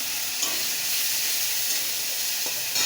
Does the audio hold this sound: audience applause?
no